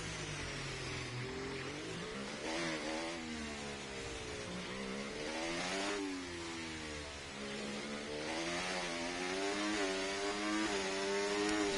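A Formula 1 car on a qualifying lap around Monaco in the F1 24 video game screams through the gears, its high engine pitch rising and dropping repeatedly with upshifts and braking, steady and close throughout.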